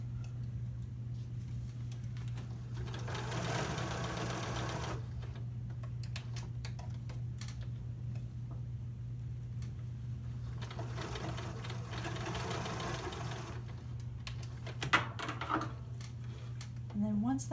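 A sewing machine stitches fabric for a drawstring backpack, catching the fabric underneath at an opening, in two sustained runs of steady whirring separated by quieter pauses, with a constant low hum throughout and occasional small clicks.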